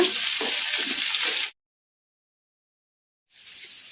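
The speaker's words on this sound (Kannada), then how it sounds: "ಈಗ ಇದಕ್ಕೆ ನಾವು ಕಟ್ ಮಾಡಿ ಇಟ್ಕೊಂಡಿದ್ವಲ್ಲ ಉಳ್ಳಾಗಡ್ಡಿ, ಈಗ ಇವನ್ನು ಹಾಕೋಣ" Chopped onions hit hot oil already spluttering with mustard seeds and cumin for a brinjal gojju, giving a loud, close sizzle that cuts out, then returns more softly after a pause.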